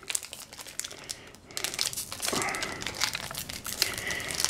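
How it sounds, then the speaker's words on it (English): Foil wrapper of a Pokemon Rebel Clash booster pack crinkles and tears as it is worked open by hand, a continuous close, crackling rustle that grows louder toward the end. "Go with pack numero uno."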